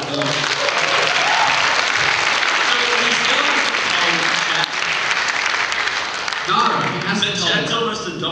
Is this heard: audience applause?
yes